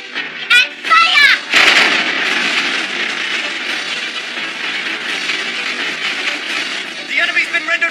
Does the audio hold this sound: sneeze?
no